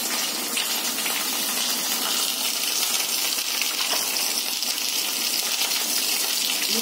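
Mustard seeds and cumin sizzle in hot oil with curry leaves, a steady, bright crackling hiss that stays loud and close throughout without pause, with no talk over it.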